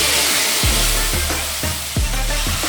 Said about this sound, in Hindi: चम्मच हिलाते जाएंगे।